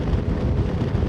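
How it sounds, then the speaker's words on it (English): Wind buffets a GoPro mounted on a motorcycle at 62 mph on the road near Derbyshire. It makes a loud, constant low rumble of wind noise with no voices. "62 mile an hour and the wind's hitting me like a mother"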